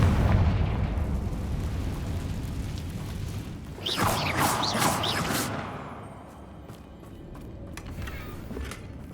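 A Confringo blasting spell goes off in Hogwarts Legacy with a sudden loud burst and crackling debris over ambient game noise, followed by lighter scattered pops as it dies down.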